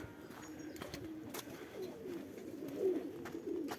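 Low, soft cooing from pigeons with a few faint chirps over an outdoor hum, steady and moderately close.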